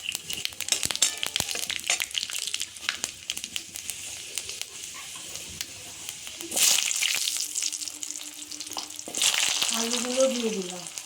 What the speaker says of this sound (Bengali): তেলের মধ্যে আমি দুটো তেজপাতা আর দুটো শুকনো লঙ্কা আর 5 ফোড়ন